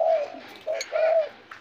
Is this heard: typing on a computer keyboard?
no